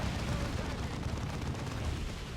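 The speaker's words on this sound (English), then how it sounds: "We'll have an artillery strike." An artillery strike lands in Warhammer 40k Dawn of War 2, a dense rumble of booming impacts and crackling fire rolling on steadily at moderate loudness with no clear gaps.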